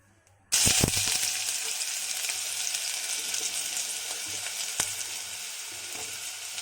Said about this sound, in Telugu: ఉల్లిపాయ పచ్చిమిరపకాయని కొంచెం బాగా దోరగా వేయించుకోవాలి.